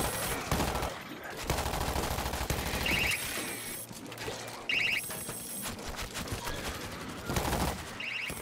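Machine gun turret firing in the video game World War Z, rapid continuous bursts of automatic fire in several stretches separated by short pauses, loud and close.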